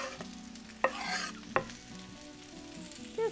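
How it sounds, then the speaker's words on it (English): Onions, jalapenos and garlic sizzling in a cast iron pan for a potato hash, a steady close sizzle with two sharp scraping stirs and a short clatter near the end. "now it's time to add our onions and our jalapenos and our garlic"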